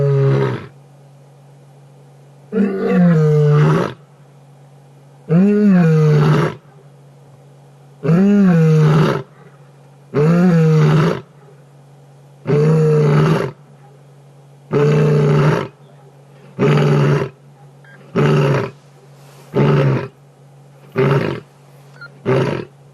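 A wild lioness roars repeatedly at dusk on safari, answering another lion, her long moaning calls loud and close, then tapering into a run of shorter, grunting bursts with silent gaps between them.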